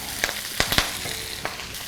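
Cavolo nero leaves hit hot oil with garlic in a pan, giving a close, steady sizzle with a few sharp crackling bursts as the greens fry.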